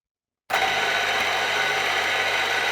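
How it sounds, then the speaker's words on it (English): A geared head drill starts up abruptly and runs at a steady, loud mechanical whir with gear and ratchet-like texture, close by and without voices. "it's basically a drill, but it's a geared head drill."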